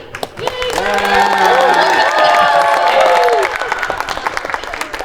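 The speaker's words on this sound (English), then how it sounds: "brought along his cheering squad" A supporters' group at a conference panel cheers, with loud whooping and shouting voices over clapping for a few seconds, then falling away to scattered claps.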